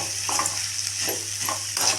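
Carrots and beans sautéing in a pan over a high flame, a steady sizzle under a low hum, with stirring scrapes marking a loose rhythm at close range.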